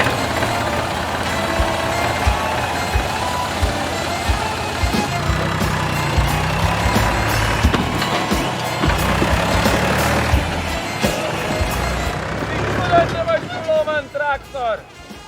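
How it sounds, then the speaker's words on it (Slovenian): A tractor engine running nearby, a loud steady diesel rumble with bursts of revving, ending with sharp high chirps and bird-like squeaks as the engine drops away; people talk in the background. "Traktor!"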